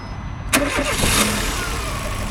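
A small Fiat Panda 4x4 engine cranks and catches, then settles into a steady idle rumble, close by and fairly loud.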